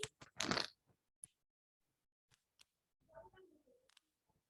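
A bird that has flown into a classroom flutters and calls, giving a loud rustling burst at first and then scattered faint chirps and coos with quiet gaps between them.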